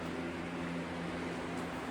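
An electric fan runs in a hot room as a steady, faint whirring hum with a low droning tone underneath, continuous and unchanging.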